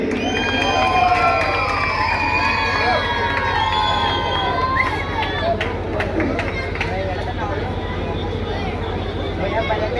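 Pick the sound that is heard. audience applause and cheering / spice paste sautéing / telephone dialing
audience applause and cheering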